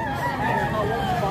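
Chickens and other fowl at a busy livestock market in Padre Garcia, Batangas, with a squawking call rising over steady crowd chatter and people talking nearby throughout.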